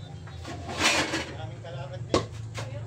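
A metal lid goes onto a pot of pork menudo during home cooking, giving a few close clanks and scrapes, with one sharp knock near the end, while a person talks.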